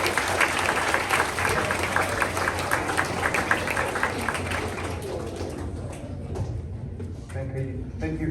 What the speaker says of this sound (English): please give a warm welcome and round of applause for our head of school